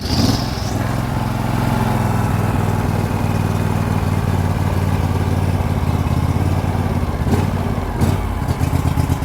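A John Deere LT180 lawn tractor engine running rough after a cold start, steady loud chugging close by with some clatter and uneven pulses toward the end.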